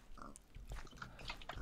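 A pig grunts and oinks in a modded Minecraft game, a few short faint snorts in a quiet, busy-sounding game scene.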